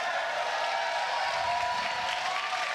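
A live crowd at a Fortnite Summer Skirmish tournament at PAX, with steady, dense cheering and applause filling the whole stretch at constant loudness.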